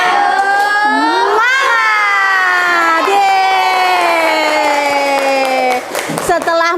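Children in an Islamic religion class chant a loud, rhythmic clapping cheer together, voices high and sustained in unison throughout before trailing off near the end.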